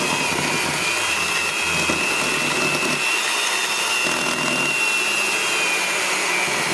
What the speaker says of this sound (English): So after about 15 minutes of blending, we now have our butter frosting.